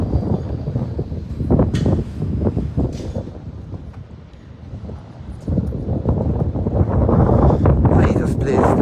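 Strong wind buffets the microphone in gusts at the harbour in Norddeich, Germany, with someone talking over the rushing noise outdoors.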